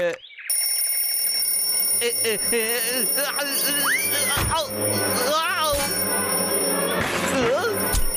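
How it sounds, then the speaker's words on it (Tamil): A smart alarm clock rings with bright chirping, warbling tones over a steady background hum, while a voice chatters throughout. "அந்த ஸ்மார்ட் அலாரம் கிளாக்"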